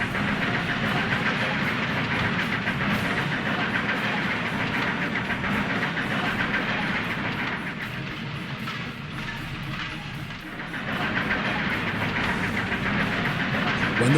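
Toy Plarail/Trackmaster trains rumble continuously along plastic track as two engines race up a hill, a steady close mechanical whirr with faint rhythmic clicking that dips briefly midway, with no voices.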